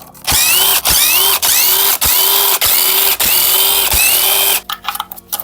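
Power tool loosening bolts on a supercharged Audi 3.0T engine: a loud, steady whirring drone broken by about seven sharp ratcheting bursts in regular rhythm, then brief clattering handling at the end.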